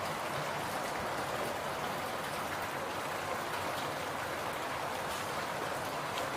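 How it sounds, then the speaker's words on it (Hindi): Steady rain falls throughout, a dense, even hiss of drops spattering on surfaces, moderately loud and continuous with no voices. "बारिश भी आ रही है।"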